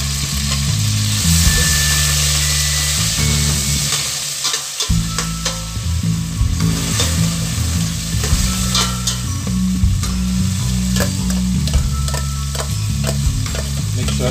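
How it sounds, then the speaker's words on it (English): Spice paste for Goan chicken cafreal sizzles loudly with onions in a frying pan, a steady crackling hiss broken by the scrape of stirring. "once the onion turns slightly translucent, I'm going to add the remaining spice paste which was in my blender jar"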